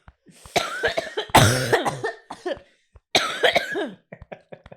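Heavy smoker's coughing in several harsh, rasping bursts, close and loud, separated by short pauses and wheezy breaths.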